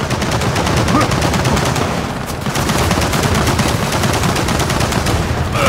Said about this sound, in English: We got a turret!